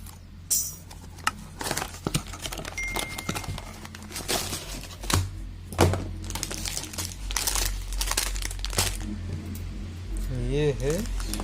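A plastic packet of CM920 wheat herbicide crinkles and rustles as it is opened by hand, giving sharp irregular crackles up close, and a voice speaks briefly near the end.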